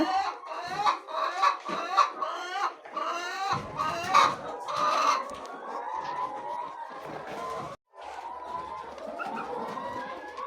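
Chickens on a poultry farm, where the hens had been left without feed, cluck continuously and close by in a busy, overlapping chorus that barely pauses.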